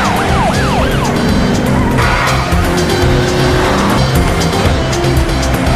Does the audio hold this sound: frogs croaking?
no